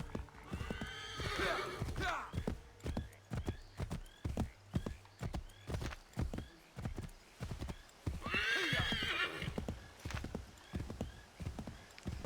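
Horse hooves clip-clop in a steady rhythm in Assassin's Creed III, with a horse whinnying twice, loud and close, as part of the game's soundscape.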